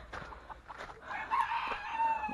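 A rooster and a hen clucking and crowing in a farmyard, close and fairly loud, with a steady stream of overlapping calls and a brief higher squawk midway.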